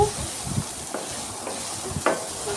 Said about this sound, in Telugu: ఉల్లిపాయ ముక్కలు కూడా ఇలా ఫ్రై అవనివ్వాలి